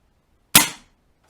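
A single sharp airgun shot fired with a moderator fitted, close and loud, with a quick burst that decays in under half a second before silence returns.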